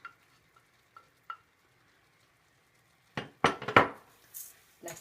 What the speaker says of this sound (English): Let's mix the rice.